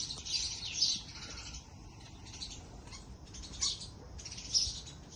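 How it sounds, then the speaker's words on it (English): Two birds fight in a garden, giving shrill squawks and chirps in several bursts of frantic calling, fairly faint and a little distant, with quiet gaps between. "There are two birds fighting, and one just like pulled another one down."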